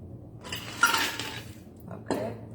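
A cocktail pours into a coupe glass with a brief splashy rush, followed by a soft clink of glassware near the end.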